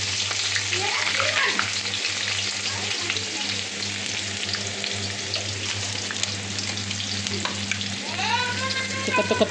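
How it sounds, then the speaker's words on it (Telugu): Onions and green chilies frying in hot oil, a strong continuous sizzle with stirring scrapes, loud and close throughout over a low steady hum. "ఉల్లిగడ్డ, పచ్చిమిర్చి ఆయిల్లో వేసేయాలా"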